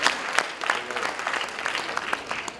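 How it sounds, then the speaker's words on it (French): Applause from the audience at a young-talent film awards ceremony, moderately loud clapping with distinct individual claps standing out over a steady crowd patter. "que je vous demande d'applaudir parce qu'elle est là"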